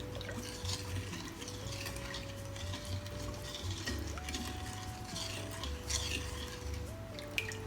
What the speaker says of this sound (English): Stir the marinade until all the ingredients are dissolved.